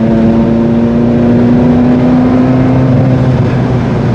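A Ferrari 355 sports car engine hums at a loud, steady high rev, a close and constant mechanical roar with no talking.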